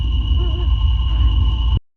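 A constant high-pitched tinnitus ringing from The Last of Us video game, steady and piercing over a low rumbling bed, holding for nearly two seconds before cutting off abruptly into silence.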